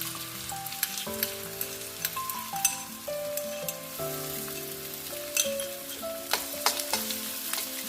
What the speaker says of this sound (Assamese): আদা নহৰু কেঁচা গোন্ধ যোৱালৈকে মই ভাজি দিছোঁ।